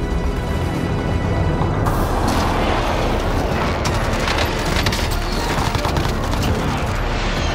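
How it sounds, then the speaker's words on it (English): Precision airstrike explosions thunder in a video game battle, with continuous loud, rumbling blasts and a dense barrage of booms that keeps going without a break. "Be advised, friendly precision airstrike inbound."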